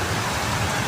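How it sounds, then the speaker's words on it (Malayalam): Heavy monsoon downpour with strong wind, a dense, steady roar of rain filling the short stretch without a break, loud and close, with no talk. "മഴ ശക്തി പ്രാപിച്ചോ എന്ന് വെച്ചാൽ എന്താ പറയേണ്ടതെന്ന് അറിയില്ല."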